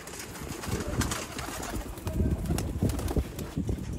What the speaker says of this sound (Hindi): दिखाओ ज़रा कबूतर